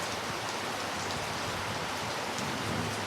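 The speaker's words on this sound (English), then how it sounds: "Now it won't stop raining." Heavy rain pours down steadily at night by the river in Kampot, a dense, continuous hiss of drops drumming on surfaces, close and loud with no voices.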